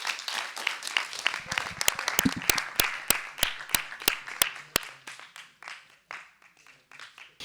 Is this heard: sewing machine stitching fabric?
no